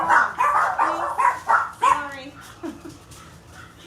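Dogs bark and yip indoors in several quick, loud bursts, close by, with a few whimpering notes, while a person speaks briefly over them.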